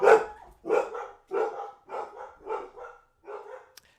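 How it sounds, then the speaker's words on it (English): Several house dogs bark in a loud, close burst of about seven sharp barks spaced across a few seconds, agitated and insistent, with no talking over them. "Anytime somebody comes by, you're going to hear 3 dogs going nuts."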